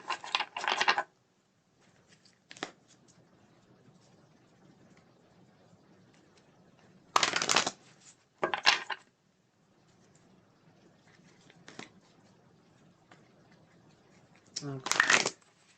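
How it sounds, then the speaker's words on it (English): Tarot cards riffle in short bursts, several brisk shuffles separated by quiet gaps, close and crisp, with faint speech in the background. "let me shuffle here and let's see what we have for the second question."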